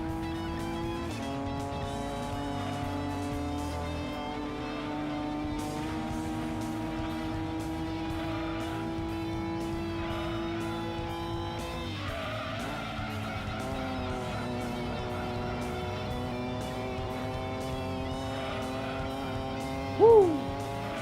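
Several race cars in Gran Turismo 2 roar at sustained high revs, with engine pitch sweeping as gears change, tires squealing through corners, and a short sharp burst near the end.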